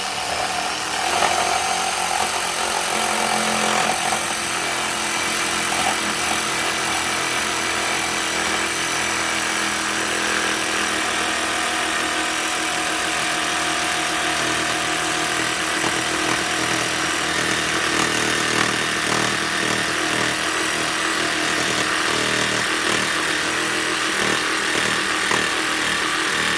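A Worx jigsaw cuts wood on a folding sawhorse workstation, giving a loud, sustained buzzing whine up close that holds steady for the whole stretch with no talking.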